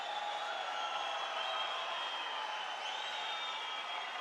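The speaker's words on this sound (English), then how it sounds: "And the crowd are loving it here," A crowd at a combat sports bout cheers in a steady, distant roar that fills the hall without pause.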